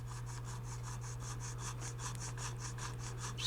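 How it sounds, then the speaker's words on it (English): A rasp and file scrape mahogany off the neck of a 1965 Gretsch 6117 guitar in steady rhythmic back-and-forth strokes, close and fairly quiet, with a constant low hum underneath. "Just gonna get rid of that mahogany with a rasp and a file"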